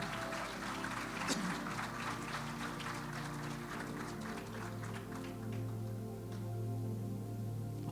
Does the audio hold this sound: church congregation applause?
yes